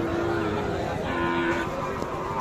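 Cattle lowing at a livestock market, a couple of steady low moos over dense crowd chatter and background noise.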